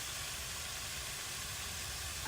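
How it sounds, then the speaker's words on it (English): A garden hose in a butterfly garden gives off a steady, broad hissing spray of water, constant and fairly close, with no voices. "Came out here to move my hose."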